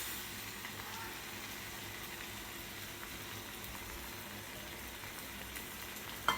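Three beaten eggs poured into a hot pan for egg bhurji sizzle and fry with a steady, even crackling hiss, fairly quiet and close, ending with a brief clatter.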